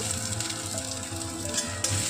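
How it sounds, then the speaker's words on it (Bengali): Pieces of chopped ginger frying in hot oil in a pan, a steady close hiss of sizzling with no voices. "বেগুনটা ভাজা হয়ে গেছে আদাটাকে ভেজে নেব"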